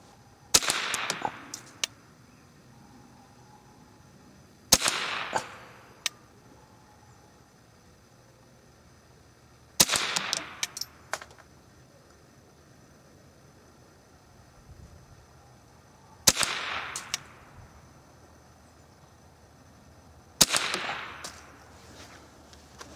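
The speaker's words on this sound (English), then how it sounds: "the upper left target is the one I'll be shooting at with the 552 to begin with" A Remington 552 rifle fires at a target: five sharp, loud shots spaced several seconds apart, each with a short ringing tail and an echoing decay in a quiet setting, no talking.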